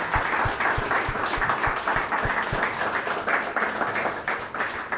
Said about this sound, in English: Keep the applause coming as she makes her way up on stage.